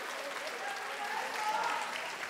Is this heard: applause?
yes